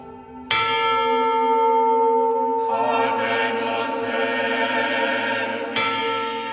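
A church's Sanctus bell, the lone bell to survive a 1985 fire that destroyed ten others, rings loud and close, its strikes blooming into long overlapping tones that hum and shimmer without pause.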